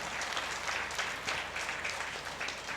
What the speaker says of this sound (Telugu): ఇంత కృషి చేసిన గ్రేట్ ట్రస్ట్ సభ్యులందరికీ కూడా గట్టిగా క్లాప్స్ కొడదాం